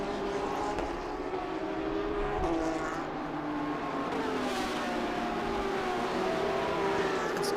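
GT race car accelerating through the gears at Road Atlanta, a steady loud engine note rising in pitch with each gear, shifting up through to fifth on a long straightaway, heard continuously from nearby.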